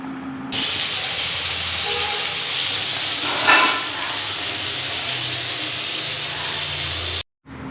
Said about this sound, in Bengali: কড়াইয়ে তেল বসিয়ে দিয়েছি গরম হোক